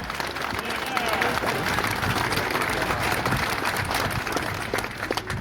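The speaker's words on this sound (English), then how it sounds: "give Danny a big round of applause" Steady, dense applause from a large crowd at an outdoor rally, sustained and loud throughout with scattered cheers and crowd noise mixed in.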